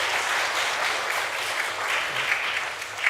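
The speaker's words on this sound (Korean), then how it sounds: "우리 다 같이 박수로 환영하겠습니다." A church congregation claps steadily to welcome visiting guests during a Sunday worship service, a dense, sustained wash of applause filling the room with no voices over it.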